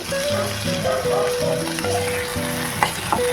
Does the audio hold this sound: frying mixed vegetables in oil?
yes